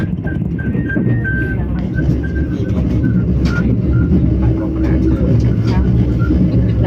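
A steady, loud rumble of a passenger train in motion bound for Chiang Mai, Thailand fills the space, with rhythmic clatter and a faint high whine, as a voice talks over it.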